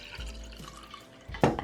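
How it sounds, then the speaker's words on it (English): Watered-down tea poured into a lens-shaped mug, a short liquid splash building near the end after quieter dribbling and faint background noise. "I'm gonna pour my watered down tea into it."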